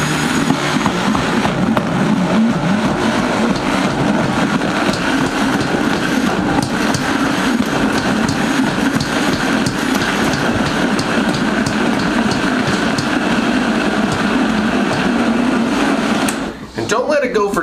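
A blender runs at a steady roar for a short burst while blending chunky homemade salsa. The motor hum stays loud and constant, then cuts off abruptly near the end.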